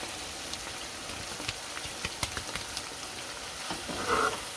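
Aloo gobi sabzi of potato and cauliflower fries in a pan with a close, crackling sizzle, while scattered scrapes and knocks of a spoon stir it. No one speaks.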